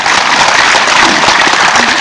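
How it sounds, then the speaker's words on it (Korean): Loud, sustained applause from a large audience at a New Year lecture, a steady wash of clapping with no pauses. "이분들한테 특별히 박수를 보내주십니다"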